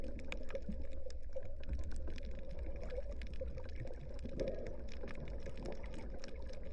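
Steady underwater sea ambience over coral reefs off Miyakojima, Japan, a muffled low rumble dotted with constant faint clicks and crackles, with no voices.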